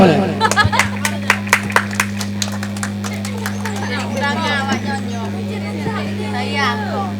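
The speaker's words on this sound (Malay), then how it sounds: "tepuk tangan boleh" Audience clapping at a Rapai Geleng Aceh performance, a burst of sharp separate claps early on, then crowd murmur and voices over a steady low hum.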